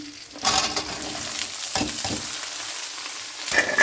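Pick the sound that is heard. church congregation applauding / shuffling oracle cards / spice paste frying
spice paste frying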